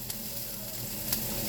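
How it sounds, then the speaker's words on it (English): Chopped onion and shallot sizzle gently in a hot pan, a steady close crackling hiss with no talk. "I'm going to let that simmer for just a little bit here"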